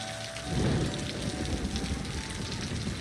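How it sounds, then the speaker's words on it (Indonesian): Steady rain with rumbling thunder in the city-building game Cities: Skylines, a broad wash of rainfall that swells into a low thunder roll about half a second in and keeps pouring throughout. "mungkin kesambar petir kali ini guys"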